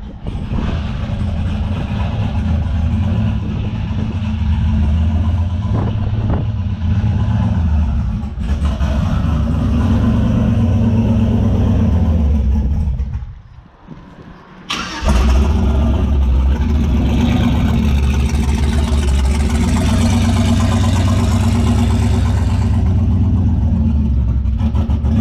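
A pickup truck with a built 5.3 V8 engine on a base tune runs loudly nearby, a deep rumbling idle with revving swells, a brief drop-off midway before the engine roars back steady.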